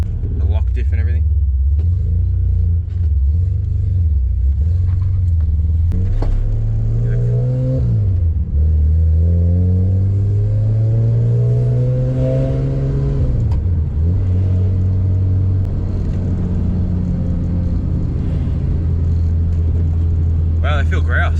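A Nissan R31 Skyline fitted with budget MaxpeedingRods S13 coilovers driving along a road, its loud steady engine drone rising and falling through gear changes, with someone talking over it throughout.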